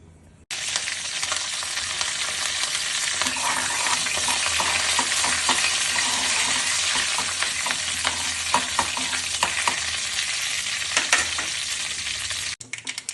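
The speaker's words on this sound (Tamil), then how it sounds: "இப்போ ஒரு சின்ன பாத்திரத்தில் ஆயில் ஊற்றிட்டு கடுகும் கருவேப்பிலையும் போட்டு தாளிச்சிடலாம் சட்னிக்கு." Mustard seeds and curry leaves sizzle and crackle in hot oil in a small pan for a groundnut chutney, a loud steady frying hiss with scattered pops throughout, close by and with no talk.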